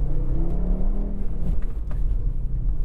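An Audi RS3 with a 2.5-litre five-cylinder engine accelerates with a deep, rumbling growl that rises in pitch as it revs, heard close and loud.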